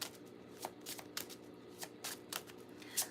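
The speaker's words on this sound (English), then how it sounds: "Well, we're shuffling it good." Tarot cards are shuffled by hand in a quiet room, a series of crisp riffling bursts and soft slaps repeating irregularly, close and clear with no talking.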